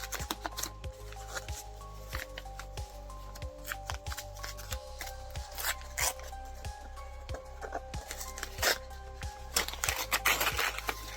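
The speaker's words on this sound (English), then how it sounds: "I shall open the paper." Paper wrapping crinkles and rustles as hands unfold it from around a paperback book, in quick close crackling bursts that repeat irregularly, with soft handling thumps beneath.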